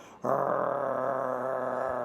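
A German Shepherd growls in a sustained, rough, low rumble that starts abruptly and holds steady for about two seconds, close and fairly loud.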